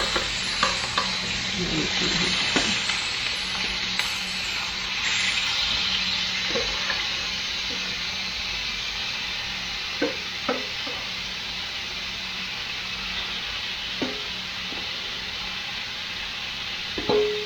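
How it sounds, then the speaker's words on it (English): Garlic steak bites fry in a hot pan, a steady loud sizzle running throughout with scattered scraping clicks from stirring. "You just fry these until they're browned all the way around and good and cooked."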